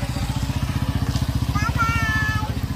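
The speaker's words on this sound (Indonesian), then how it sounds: "Ada motor" A motorcycle passing nearby, its engine putting out a steady rapid chugging pulse that stays loud throughout, while people talk faintly in the background.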